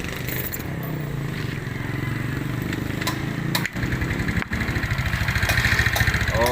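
A Yamaha Mio motorcycle engine, restarted after stalling, idles close by with a steady, rapid chugging rhythm, briefly dipping twice before settling back into a continuous putter.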